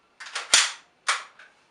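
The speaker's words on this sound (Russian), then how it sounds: "После замены стволика сделал несколько выстрелов пробных." Test shots from a CYMA AKM (CYMA-048M) airsoft rifle fitted with a replaced inner barrel: two or three sharp, close pneumatic cracks with brief decays.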